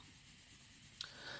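Coloring on paper makes a faint, close, rhythmic scratching of repeated rubbing strokes, with a sharper tap and brighter scrape near the end.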